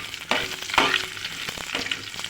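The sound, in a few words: onions and dried red chillies frying in a pan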